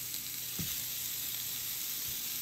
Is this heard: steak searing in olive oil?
yes